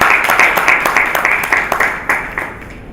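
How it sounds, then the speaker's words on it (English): Audience applause for conference panelists at a workshop, a dense burst of clapping from a room full of people that starts strong and gradually tapers off over a few seconds. "could we have a round of applause for the panelists"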